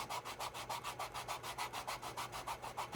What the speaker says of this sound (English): Let's go ahead and give it a good sand.